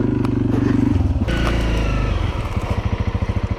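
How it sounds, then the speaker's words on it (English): A 125cc motorcycle ridden off-road through bush, its engine loud and close with a steady throbbing drone that shifts pitch as it revs, plus clattering from the bike. "Riding a 125, first time in years."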